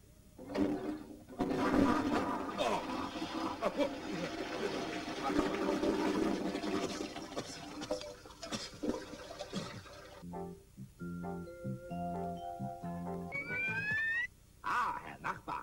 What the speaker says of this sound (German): kalt duschen!